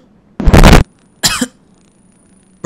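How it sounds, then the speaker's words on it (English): A man gives two sharp, loud coughs close to the microphone, a longer burst followed by a shorter one, with quiet pauses between. "I'm coughing, man"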